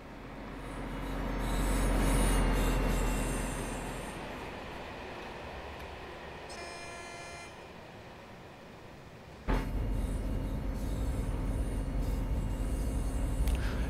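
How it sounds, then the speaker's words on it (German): In the Train Sim World 4 video game, a short freight train rolls past, its rumble swelling then easing, wheels squealing on the rails, ending in a sudden jump to steady close running noise. "Lass mir den Zug einmal an uns vorbeifahren."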